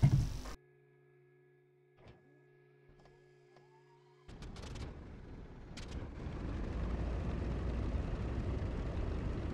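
Aircraft engine in the DCS flight simulator surging after the throttle is pushed forward. A sudden loud broadband roar starts after a quiet idle with tonal hum and clicks, then builds into a steady, heavy engine rumble.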